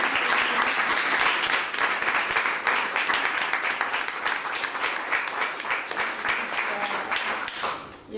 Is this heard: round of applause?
yes